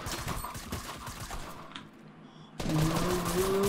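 Gunfire in the video game Fortnite, a dense, rapid burst of shots that breaks off, then resumes after a short pause with louder fire and game sounds.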